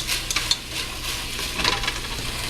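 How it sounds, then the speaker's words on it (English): A spoon scoops cooked rice and presses it into green bell peppers for stuffed peppers, giving soft scraping with a few light clinks over a steady low hum. No one speaks. "spoon the rice into the green peppers. So that's exactly what I'm going to do right now"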